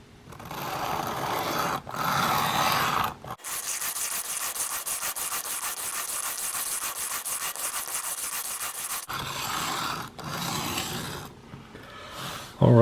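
A knife edge rasps back and forth on a 400 grit sharpening stone in a guided sharpener, first in short strokes and then in one long, steady run of rapid scraping passes, close and fairly quiet.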